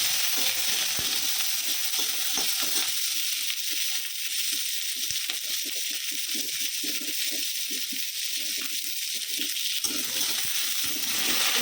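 Onion, chili and garlic dropped into a hot pan and frying, a steady close sizzle with stirring scrapes throughout.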